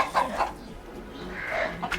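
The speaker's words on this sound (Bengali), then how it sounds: "ওরে মুরগি ডিম পেড়েছে" A hen clucks in a farmyard after laying an egg, with a few short, fairly close calls in a brief burst.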